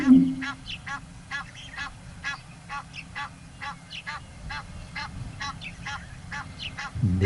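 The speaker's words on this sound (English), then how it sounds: "the Egyptian geese in the background are spectators to the match" Egyptian geese honk repeatedly in a rhythmic series of nasal calls, moderately distant, over a low background rumble.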